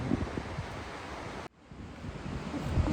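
Wind blows in a loud, steady roar buffeting the microphone, cutting out for a split second midway before gusting back stronger.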